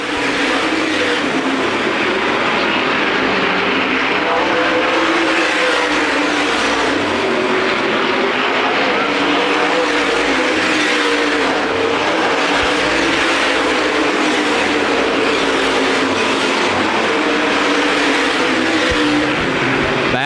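USA Modified race cars roaring around the Winchester Speedway oval in a 50-lap race, a loud continuous engine drone from the pack with rising and falling pitch as cars sweep through the turns.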